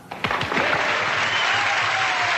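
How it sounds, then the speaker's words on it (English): A burst of audience applause swells in quickly and holds as a dense, loud wash of clapping until the end, with no talk over it. "Okay, cue the clap now."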